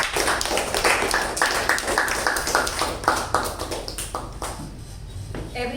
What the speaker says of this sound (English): let us give a nice round of applause for the Toastmaster of the day